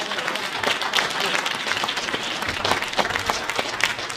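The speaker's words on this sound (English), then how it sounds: "Let's give them a good round of applause." An audience at a mayoral candidates forum in Birmingham breaks into a good round of applause, dense and loud clapping sustained evenly throughout with no pause.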